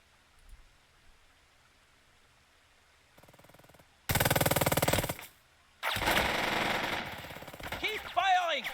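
Rapid bursts of gunfire ring out in the Burden of Command video game, two long loud sustained volleys after quieter moments, with a whistling sound at the end.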